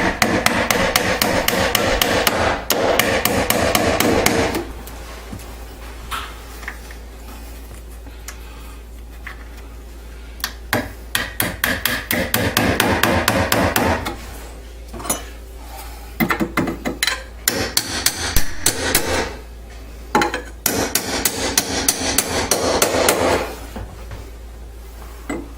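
Loud, close hammer blows pound on a protective block laid over a window sill during a casement window operator repair, coming in quick bursts of rapid strikes with pauses between.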